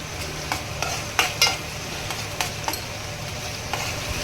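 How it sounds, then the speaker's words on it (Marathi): A spoon scrapes and stirs prawn masala in a sizzling pan, with irregular sharp metallic clinks and scrapes over a constant frying hiss. "हलवून घेऊया"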